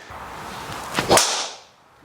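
A single sharp crack of a golf driver striking a ball, preceded by a brief swishing build-up, then quiet.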